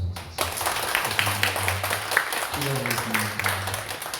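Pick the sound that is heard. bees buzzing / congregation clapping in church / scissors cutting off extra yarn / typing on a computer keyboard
congregation clapping in church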